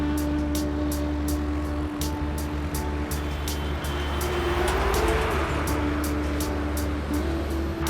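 A motorcycle rides along a highway toward the Khatu Shyam temple, its engine a steady low drone under continuous wind and road rush, unbroken for several seconds.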